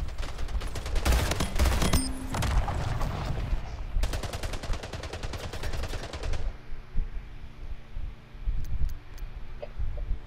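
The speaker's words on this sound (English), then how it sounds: "Watch me battle rifle this guy." Battle rifle gunfire in the Splitgate team deathmatch game, loud rapid bursts of shots in two clusters, then quieter scattered game noise and faint clicks afterward.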